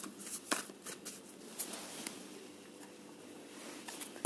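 Tarot cards are shuffled close by in a soft, papery riffle with quick flutters and taps, quiet and steady, with no voice over it.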